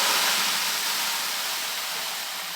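A steady, dense rushing hiss of rice grains pouring into a container, close and loud at first and tapering off slightly over a couple of seconds, with no voices.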